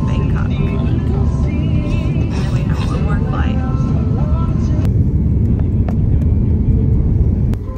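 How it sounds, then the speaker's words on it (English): Inside an airliner cabin on final descent into Bangkok's BKK airport, a loud, steady low engine and air rumble drones throughout while people talk over it. "We're making our final descent."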